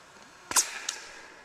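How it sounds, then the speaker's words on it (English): Two sharp cracks about a third of a second apart, the first louder and broader, the second a quick snap of a bullet breaking the sound barrier, over faint background hiss. "the second crack is the bullet breaking the sound barrier"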